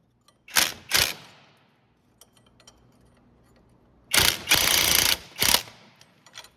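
Ratchet running down the nut on a front sway bar link of a 2011-2017 Honda Odyssey, giving two short bursts of clicking, a quiet pause, then a longer run of close, loud ratcheting clicks.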